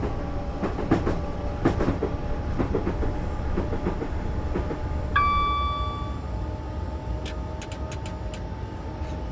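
A train runs in the Train Simulator 2020 game with a steady rumble and clickety-clack of wheels. Partway through, a short pure tone sounds briefly as the train keeps rolling, with no talk.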